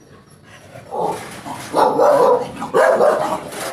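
A dog barks in a home, several loud rough barks in irregular bursts spread over a few seconds, fairly close and heard alone against faint background noise.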